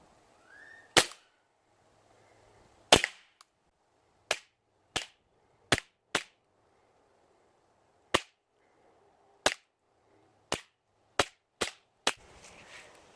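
A KWA MP9 airsoft gun fires 0.25 g BBs on green gas at a target about 10 yards off, giving a dozen sharp, loud single cracks. They come spaced irregularly one to two seconds apart, with no speech.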